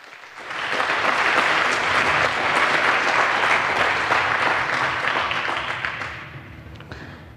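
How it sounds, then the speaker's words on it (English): Audience at a hacker camp conference talk giving warm applause, swelling in quickly, holding as a dense, even crowd of clapping for several seconds, then tapering off toward the end. "give a welcome and a warm applause for Barbara Wimmer"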